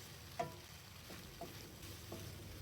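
Chicken macaroni with vegetables cooking in a pan gives a soft, steady sizzle and frying hiss, with a few light stirring clinks and scrapes at intervals.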